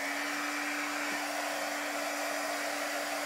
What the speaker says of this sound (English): Hit the dryer.